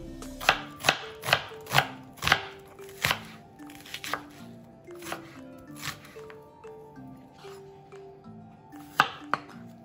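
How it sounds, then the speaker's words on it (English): An onion being sliced on a cutting board with a knife, a run of sharp, evenly spaced chops close by, quickening and then thinning out, with no talk over them. "cut that in half, and then just slice"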